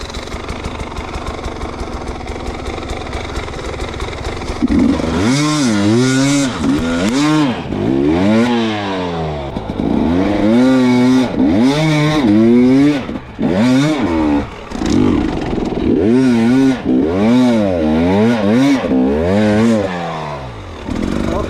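A 300cc two-stroke motorcycle engine idles, then revs hard in repeated rising and falling bursts, loud and close, with no talk over it.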